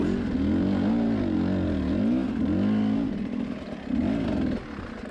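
An off-road motorcycle grinds up an enduro hill climb, its engine revving in repeated rising and falling surges, close and loud, easing off briefly near the end.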